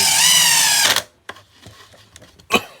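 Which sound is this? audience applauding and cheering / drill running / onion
drill running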